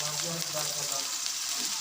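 Okra (bhindi) frying in a pan, giving a steady close sizzle that runs unbroken for a moment, with faint stirring and a voice talking under it.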